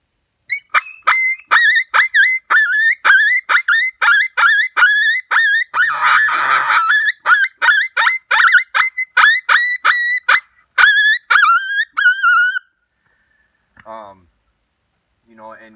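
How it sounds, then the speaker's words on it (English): Pup distress cries blown on a pocket howler open-reed hand predator call: about two dozen loud, close, high wavering yelps in a rapid pulsing series, with a brief raspy squall midway, then trailing off into a few faint squeaks. "I'll use the pocket howler. It's a little louder, but it does an awesome pup distress."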